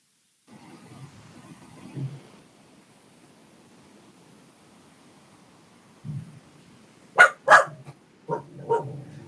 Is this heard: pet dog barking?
yes